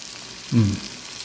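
A brief burst of crackling oil sizzle from chicken pieces frying rises sharply, then settles back into a low steady hiss.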